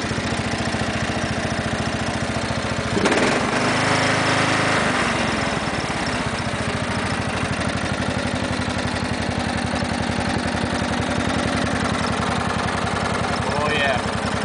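A 1994 Sears riding lawn mower engine runs steadily and close by, with a brief rev or clunk early on before settling back into its even, chugging idle.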